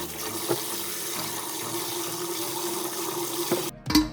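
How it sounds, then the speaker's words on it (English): Tap water runs steadily onto raw chicken being rinsed in a sink, a continuous close hiss and splatter with a few small knocks and a brief pause near the end. "Wash the chicken 2 or 3 times in running water."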